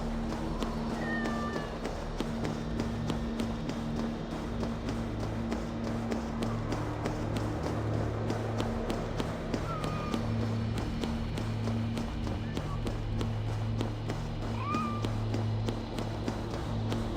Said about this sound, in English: If these are Freya's cats, they must be leading to her.